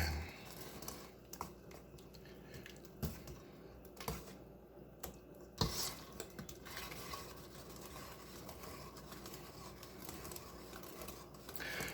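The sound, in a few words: mixing milk into honeybun cake batter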